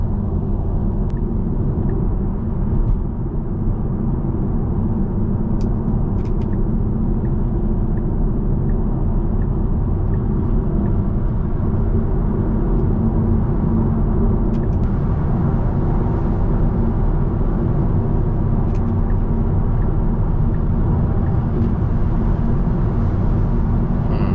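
Steady road roar and tyre rumble from inside a Tesla Model 3 Performance cruising on a busy highway in heavy morning traffic, constant and unbroken with no talking.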